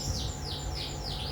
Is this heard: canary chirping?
yes